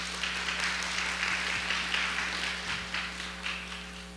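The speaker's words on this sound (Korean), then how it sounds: "사모님께서도 이쪽에 참석해 계시는데 박수로 환영해 주십시오" A church congregation claps to welcome the pastor's wife, a soft, even wash of applause heard from a distance over a steady electrical hum.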